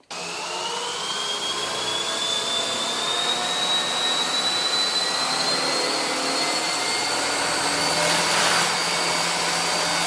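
A bench grinder runs steadily and loudly from start to finish, a continuous whine that slowly rises in pitch as it spins up, heard alone with no voices.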